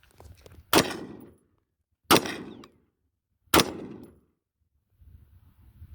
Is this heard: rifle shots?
yes